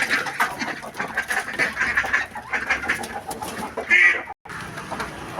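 Ducks and chickens at a farm feeding area, with busy overlapping clucks and quacks filling the scene at close range, nearly continuous with a brief gap near the end.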